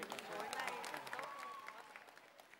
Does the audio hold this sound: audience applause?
yes